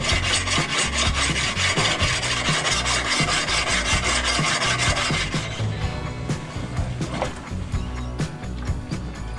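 A sharpening stone lubricated with Inox rubs rapidly back and forth over an engine's header surface, a steady, close, gritty rasping that softens and slows slightly toward the end.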